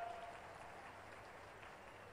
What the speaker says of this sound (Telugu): ఇంకా గట్టిగా చప్పట్లు కొట్టాలి.